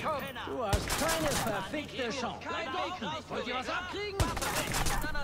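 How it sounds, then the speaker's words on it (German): Gunfire in the video game Watch Dogs, with sharp shots cracking out near the start and again later, partly buried under someone talking over the game. "Wer schießt denn die ganze Zeit auf mich?"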